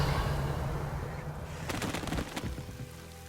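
A Revelio spell cast in Hogwarts Legacy on PS5 gives off a shimmering burst of bright crackling pulses over a low rumble, rising midway and then fading, with no talking.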